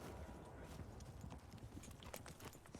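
A horse carries its rider at a gallop in Red Dead Redemption 2, with quick, steady hoofbeats over rumbling ground noise for a few seconds.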